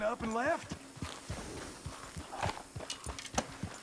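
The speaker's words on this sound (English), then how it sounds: "This is my own horse." Hooves clip-clop at an irregular walking pace as a horse moves in Red Dead Redemption 2 Online, with crisp separate strikes up close. A brief horse whinny rises at the start, and someone talks over part of it.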